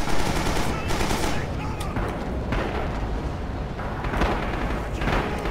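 A stationary machine gun in the World War II shooter Rising Storm on Guadalcanal rattles off a long, loud, continuous burst of rapid fire, mixed with other gunfire and battlefield noise.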